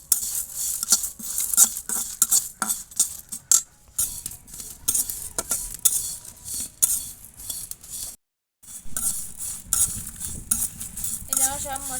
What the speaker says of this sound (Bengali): এবার আমি নেড়ে চেড়ে মশলাগুলো ভেজে নেব।